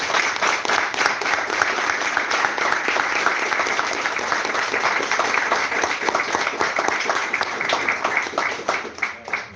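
Church congregation applauding during a worship service, sustained dense clapping throughout at a steady level, tapering slightly at the end.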